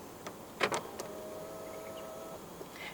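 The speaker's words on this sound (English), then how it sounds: "To lock the car, press the indented area on any of the front door handles." A pair of quick mechanical clicks from a 2023 Hyundai IONIQ 6 door locking, followed by a faint, thin electronic tone against a quiet background.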